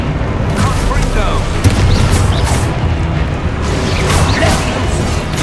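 The Confringo fire spell exploding in the Hogwarts Legacy video game: a loud, dense rumbling boom with crashing debris and whooshes that fill the whole stretch, with a voice shouting over it.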